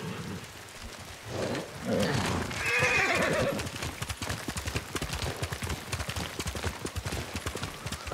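A horse in the video game Ghost of Tsushima whinnies loudly and close, followed by steady clip-clop hoofbeats that continue under faint background rain.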